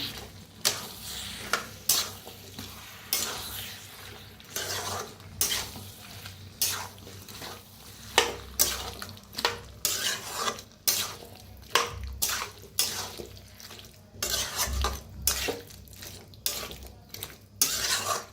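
Eggplant and potato pieces with salt are stirred in a pan, with repeated scraping and clinking strokes of a spatula against the metal over a low frying sizzle. The stirring runs at a steady rhythm and is close and clear.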